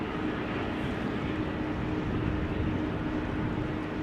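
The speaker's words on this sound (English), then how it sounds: "special livery Air Baltic seems to be coming this way" An Air Baltic airliner in special livery approaches at Amsterdam Schiphol Airport, a steady broadband engine roar at moderate distance holding level throughout with no voices.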